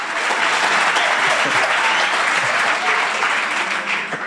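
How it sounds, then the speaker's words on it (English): Audience at a Black History Month lecture applauding loudly and steadily, a dense sustained wash of many hands clapping close by, with a few faint voices mixed in. "You can clap harder than that."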